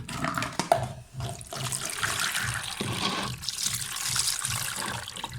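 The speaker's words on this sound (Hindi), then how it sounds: "इसका पानी निकाल के आप ऊपर से थोड़ा सा ठंडा पानी डाल दें ताकि ये पिचके ना" Cold tap water pouring over drained pasta in a strainer, a steady close rushing splash that runs continuously without talk.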